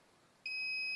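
A digital multimeter gives a steady electronic beep while its probes test a resistor during a CRT TV standby repair; the tone starts abruptly partway in and holds loud and continuous to the end.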